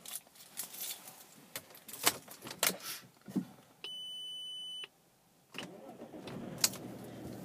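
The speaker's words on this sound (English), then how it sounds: "Car starts first time," A blue 3.0 litre diesel Audi A4 convertible with about 120,000 miles is started from inside the car. Keys jangle and clicks sound first, then a steady dashboard beep, and the engine catches and settles into a quiet idle.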